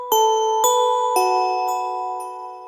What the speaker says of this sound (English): Without any movement, it's just bells, right?